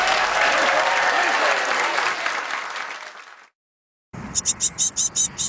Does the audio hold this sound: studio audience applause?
yes